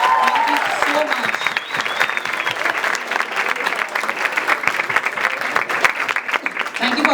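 Sustained audience applause for a violinist and pianist at a Christmas concert, dense clapping from a large crowd continuing steadily throughout.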